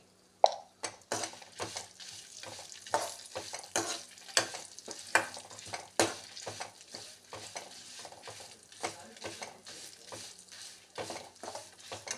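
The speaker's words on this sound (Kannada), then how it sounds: "ಈಗ ಮಸಾಲೆ ಪದಾರ್ಥಗಳೆಲ್ಲ ಹುರಿದು ಆಯಿತು" Dry spices, chana dal and turmeric roast in a pan for a leafy greens sambar. A spatula stirs and clatters nearby with an irregular rhythm over a soft sizzle, with no voices.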